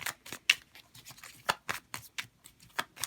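Tarot cards being shuffled by hand, a close, steady run of crisp riffling flutters and soft slaps in an irregular rhythm, quiet and with no voices.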